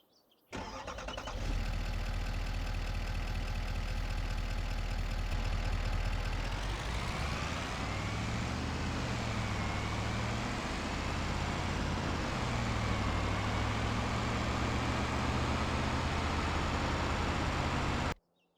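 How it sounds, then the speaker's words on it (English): A Cummins pickup truck engine in Farming Simulator 25 starts up, idles with a low rumble, then revs up and settles back in smooth swells, loud and close with no talking. "we're going to quickly do a vehicle sounds test. So here's the Cummins without further ado."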